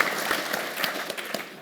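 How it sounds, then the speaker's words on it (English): Brief round of applause from an audience at a city economy conference, a moderate patter of clapping hands with a few sharper claps standing out. "I think we give her a round of applause, don't we?"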